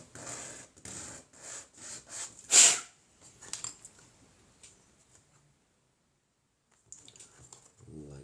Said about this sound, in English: A little bit more sanding.